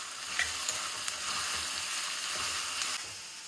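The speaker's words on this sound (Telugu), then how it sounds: "ఇట్లా వేయించుకోవాలి." Onions sizzle steadily in hot oil in a pan for a Telugu tomato curry, a dense continuous frying hiss with small crackles and a light stir midway, close and fairly loud with no talking.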